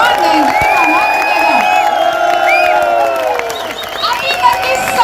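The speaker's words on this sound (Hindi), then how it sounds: "तो आज वैसी तालियां बजाइए, वैसा शोर मचाएं कि सर इमोशनल होके मंच पर आ जाएं।" A live audience claps, cheers and whoops at a direct selling company rally in Dehradun. The crowd noise is loud and sustained, with scattered shouts over the dense applause, and a voice is heard through it.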